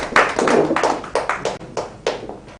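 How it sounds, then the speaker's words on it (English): An audience claps in a live-streamed ceremony, loud close applause coming in uneven bursts of hand claps that thin out and stop near the end. "Please, a round of applause for Fine Wine."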